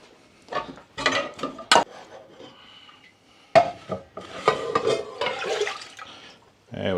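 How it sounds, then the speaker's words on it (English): Pans clatter and scrape during home cooking in a kitchen in Wales, with irregular metallic clanks and rubbing noises in bursts near the mic, separated by brief pauses. "Mess up more pans than is needed."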